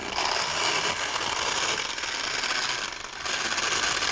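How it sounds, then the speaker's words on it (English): An old school blender runs in a kitchen, making a loud, steady, close-up whirring grind with a brief dip in intensity near the end. "And this is an old school blender"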